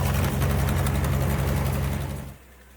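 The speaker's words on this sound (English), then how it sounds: "the engine's really working really hard" A Frick sawmill engine labours heavily while its blade cuts through a big log, a loud, steady low rumble with a rapid knocking beat that suddenly drops away near the end.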